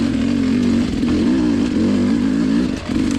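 A motorcycle engine runs close by with a steady, throaty idle that wavers slightly in pitch, dipping briefly near the end before settling again.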